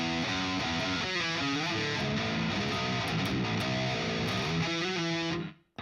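A distorted electric guitar plays a riff, a steady, dense, heavily driven stream of palm-muted and sliding notes that continues throughout before cutting off abruptly near the end, with no voice over it.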